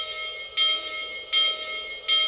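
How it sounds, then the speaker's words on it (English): A model steam locomotive's sound feature rings its bell in three evenly spaced, bright metallic strokes with a steady tone between them, close and clear with no talking. "So I have here the bell."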